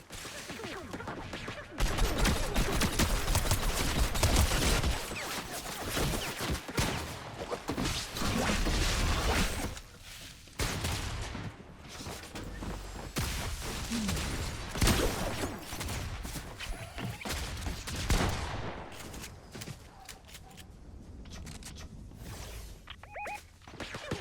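Gunfire in a Fortnite match: loud, dense bursts of shots and impacts that keep going almost without a break over the whole stretch, with brief quieter gaps.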